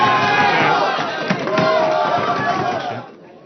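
Spectators at a high-stakes 8-ball pool money match cheer and shout together, a loud burst of crowd noise that holds for about three seconds and then fades away.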